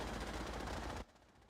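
Rapid automatic gunfire in the Fallout 4 video game: a loud, continuous rattling burst lasting about a second before cutting off sharply to quiet.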